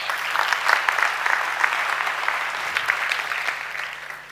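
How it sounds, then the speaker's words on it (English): An audience at a tech conference applauds steadily, a dense wash of clapping from many hands that holds throughout and tapers slightly at the end. "Round of applause for everyone back there who's helping making this happen today."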